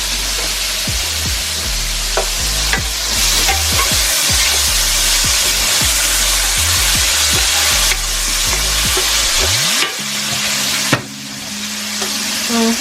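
A peppers and onion blend fries loudly in a pan, with a steady broadband sizzle, scattered pops and stirring scrapes, and a brief tonal clink near the end. Nobody speaks.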